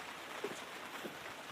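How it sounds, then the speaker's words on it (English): Light morning rain patters softly on surfaces in a garden in Panama, a faint, steady wash with a couple of slightly louder drops. "Even though it's raining, I want rainwater."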